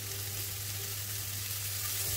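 Tuna sizzling in a frying pan, a steady, even hiss of hot oil that holds without a break for a couple of seconds.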